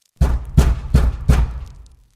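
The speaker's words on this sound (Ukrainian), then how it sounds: "І Сальвіні в отчаю щосили застукав ще раз." Four hard, evenly spaced knocks on a door, loud and close, each a heavy thump with a short decay, then quiet.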